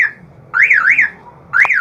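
Aftermarket car alarm siren sounding loud and close in a parked car, a rising and falling warble that cuts out and restarts, with a sharp chirp at the end and no talk.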